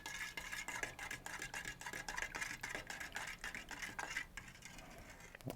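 A spoon stirs a mixture until it dissolves, giving quick repeated clinks and scrapes against a cup or bowl in a steady rhythm, faint and close.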